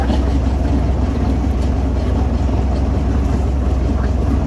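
A tour boat's engine drones steadily and loudly throughout during island hopping at El Nido, with wind buffeting the microphone over the constant rumble.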